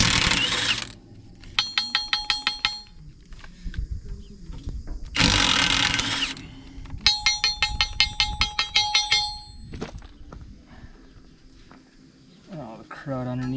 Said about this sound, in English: It's just 4 bolts you gotta take out.